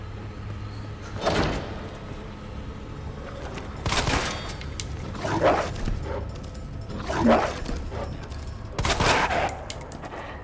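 Dog barks mixed with sharp gunshot-like bangs in a Resident Evil-style video game, several loud bursts spaced a few seconds apart.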